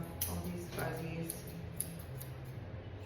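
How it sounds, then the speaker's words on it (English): Scissors trim the fur on a Golden Retriever's paw, giving a few faint metallic snips and clicks in a quiet room, with soft rustling and a low background hum. "So just combing up the hair and trimming off all these fuzzies."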